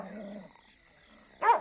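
A dog gives a single short bark near the end, after a quiet stretch with faint low sounds.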